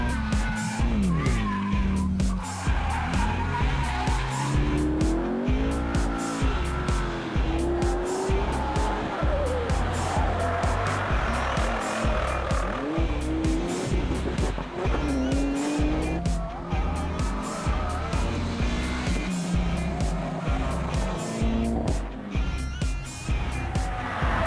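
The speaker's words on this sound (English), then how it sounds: "The first true test of speed consisted of 2 flying laps around Winton Raceway" Rally cars lap Winton Raceway at speed in a 2006 Victorian rally event, with continuous loud engines revving and shifting, repeated tire squeal and skidding through corners, and a low rumble throughout, close and dense.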